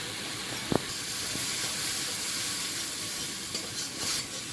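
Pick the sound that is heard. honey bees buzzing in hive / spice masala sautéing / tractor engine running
spice masala sautéing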